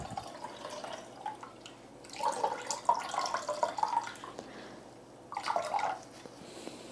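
Freshly blended coconut milk trickles and drips through a strainer, faint and close, with irregular splashy patter that comes in bursts, stops for a moment and resumes.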